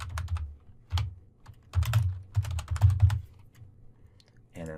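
Rapid keystrokes on a computer keyboard while writing into a text file, coming in irregular bursts with short pauses, close and fairly loud over a low background hum.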